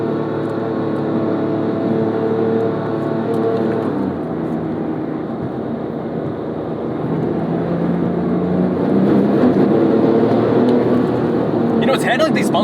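A 2008 Porsche 997 911 GT2 driving over a bumpy road with PASM off and some wheel hop, a steady loud engine and road drone heard from inside the cabin, shifting slightly in pitch partway through, with no talk.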